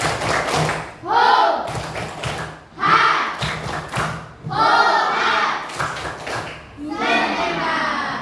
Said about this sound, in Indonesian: sekarang tepuk semangatnya dulu. Tepuk semangat.